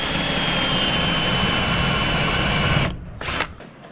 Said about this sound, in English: So we'll mark these 3 with a drill.